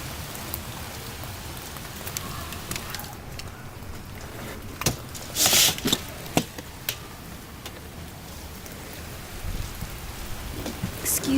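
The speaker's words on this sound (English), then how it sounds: "it just started pouring" Steady heavy rain pouring down with a dense, continuous hiss, punctuated by a few louder splashes and a brief crackling burst; no one speaks.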